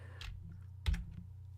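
A few isolated key presses on a computer keyboard, one soft tap and then a firmer clack, close by over a steady low hum.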